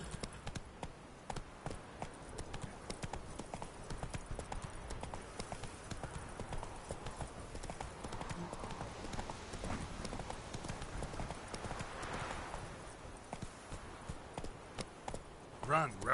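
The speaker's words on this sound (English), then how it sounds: "Run, Roach." A horse gallops in The Witcher video game, its quick hoofbeats drumming steadily throughout with game ambience, while a voice speaks briefly.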